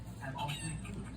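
A chicken clucking sound from a push-button sound module in a children's interactive barnyard book, a short series of clucks played back from a small speaker, moderately quiet.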